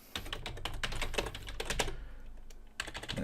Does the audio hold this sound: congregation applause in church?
no